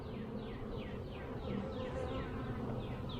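Dense buzzing of honeybees from an opened nucleus hive during an inspection, a steady swarm hum that runs close and continuous throughout.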